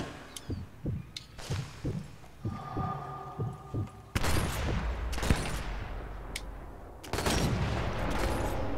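Sniper rifle gunfire in the video game Sniper Elite 4: a few loud, sharp shots with rumbling tails ring out after a run of soft rhythmic thuds.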